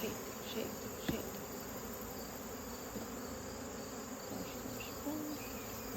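A steady, dense hum of many honeybees buzzing together in a hive, continuous and fairly close, with a couple of faint knocks and no voices.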